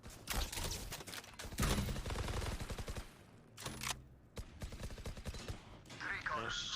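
Rapid, loud bursts of automatic gunfire crackle through a video game shootout in dense, repeated volleys broken by short pauses, with a player's voice talking over parts of it.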